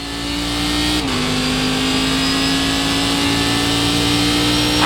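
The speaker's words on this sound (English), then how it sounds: "come and join me for a hot lap around Rudskogen in the Cadillac as part of the Fanatec Global Challenge Series." A Cadillac CTS-V race car in iRacing at Rudskogen holds a steady loud engine drone, with one brief gear-change dip before the pitch settles and carries on evenly.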